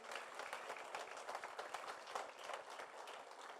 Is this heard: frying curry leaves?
no